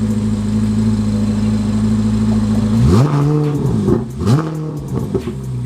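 A car nicknamed AK, likely cold, idles with a steady hum, then revs sharply twice in quick succession, the pitch climbing and falling each time, loud and close with no talking.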